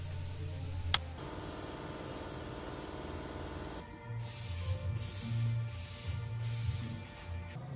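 A steady aerosol hiss with a sharp click near the start, then the spray cuts into short repeated bursts, a spray can applying undercoating to a 1972 Toyota Corolla.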